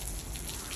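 A garden hose sprays water over trees like a rain shower, a steady close hiss of droplets spattering on leaves and surfaces throughout, with no voices.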